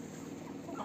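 Chickens cluck steadily at close range on a farm during feeding time, a busy overlapping murmur of hens that swells slightly toward the end, with no voices.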